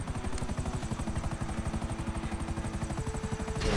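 A helicopter in GTA 5 with steady rapid rotor chopping, loud and close, alone throughout.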